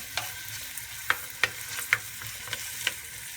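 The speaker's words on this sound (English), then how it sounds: "my onions and garlic has been sauteing for about 2 minutes" Onions and garlic sauteing in a pan, giving a faint, steady sizzle with several sharp clicks and taps of a utensil against the pan spaced irregularly, no voices.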